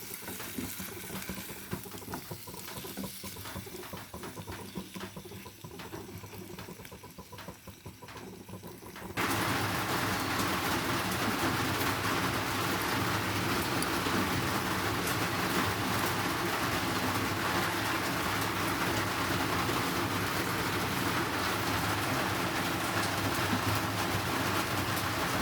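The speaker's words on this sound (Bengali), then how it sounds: "একটু কষে নেব চিকেনটাকে।" Chicken sautéing in a pan, quiet stirring and scraping at first, then a sudden jump to a loud, steady sizzle and frying roar that continues without letup.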